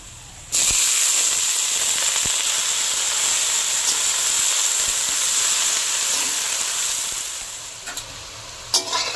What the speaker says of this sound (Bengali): শাপলাটা হালকা ভাজা ভাজা হয়ে গেছে